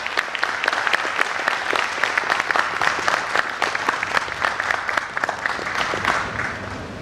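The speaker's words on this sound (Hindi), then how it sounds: "उनका तालियों से स्वागत।" An audience welcomes Hindustani classical vocalist Arshad Ali Khan with applause, distinct individual claps rising into a lively, fairly close patter that runs about seven seconds and thins at the end.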